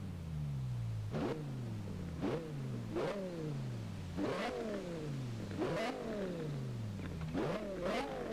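A car engine in the racing video game Forza Horizon 4 revs over and over in repeated surges, each climbing and then falling away, loud and close with no talk.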